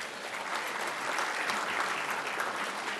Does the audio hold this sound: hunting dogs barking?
no